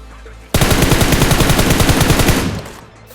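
Rapid automatic gunfire in the mobile battle royale game BGMI (PUBG Mobile), a loud sustained burst of evenly spaced shots starting abruptly and lasting about two seconds before trailing off.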